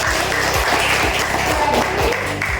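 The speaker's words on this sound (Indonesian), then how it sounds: "Tepuk tangan dulu buat Ibu" A classroom audience applauds steadily throughout, a dense patter of many hands clapping at once, with faint voices mixed in.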